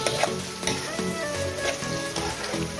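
Onions sizzling in oil with salt in a pan for a water spinach (kolmi shak) fry, a dense continuous crackle with a few stirring scrapes, close and with no voices.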